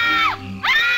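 In the Night Trap video game, two shrill, high-pitched screams pierce through a loud party backdrop: one descending, the other climbing back up.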